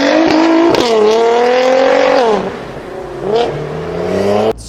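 A high-revving Nissan GT-R R35 engine in the Roblox game Greenville screams up through the gears, pitch climbing and dropping with each shift, loud and close, with a game-like synthetic tone.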